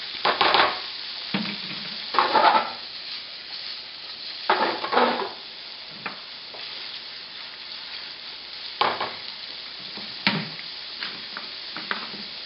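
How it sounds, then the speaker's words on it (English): Garlic and onions sizzling in a pan for carbonara, a soft steady frying hiss broken by several louder stirring scrapes and clanks, close, with no talk. "it should slow down the cooking of the garlic and the onions"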